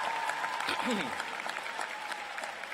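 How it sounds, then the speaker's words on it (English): Applause from the crowd at the 2023 UCLA College commencement ceremony in Pauley Pavilion, a steady dense clatter of clapping that runs under a speaker's amplified voice throughout. "another round of applause for all the folks that made it possible for you to be here"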